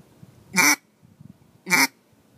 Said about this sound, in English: What you want to do just to have a quack is you want to go.